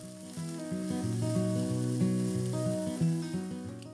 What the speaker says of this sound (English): heat cooking oil in a frying pan. Then add bean sprouts.